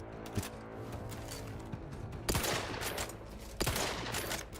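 Video game gunfire while strafing, heard as two sharp bursts of shots cutting through a steady low background hum, fairly quiet overall.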